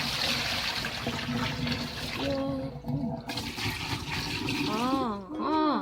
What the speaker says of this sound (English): You're gonna fill up both of your sinks with water to the same amount